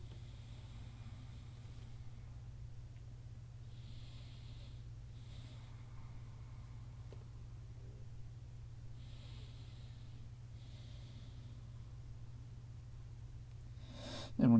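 Slow, soft breaths during the yoga rabbit pose, rising and falling at a relaxed pace over a steady low hum.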